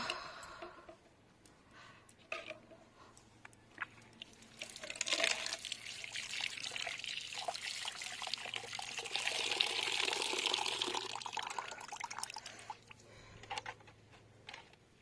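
Water is sprinkled over chilli seed trays in a rooftop garden, a soft spattering and trickling that swells in the middle and then tapers off, with no speech.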